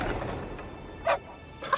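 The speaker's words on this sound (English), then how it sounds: "One bark means yes." A single dog bark pops out near the middle of an otherwise quiet moment in a RWBY animated episode, short and moderately loud, with another faint yelp-like sound at the end.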